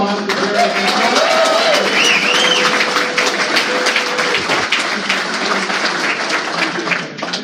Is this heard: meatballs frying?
no